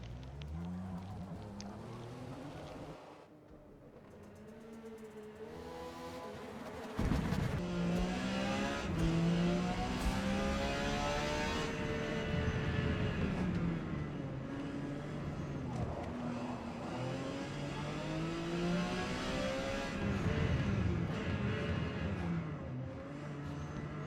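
A Porsche 956 race car in Forza Motorsport at the Hockenheimring during a qualifying run on cold tires, its engine revving up and down through gear changes, loud and steady with occasional tire squeal.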